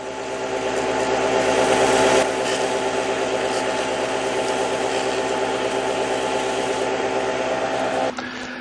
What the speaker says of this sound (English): Now this sanding is a little different than the other sanding in that your fingers are a lot closer to the chuck.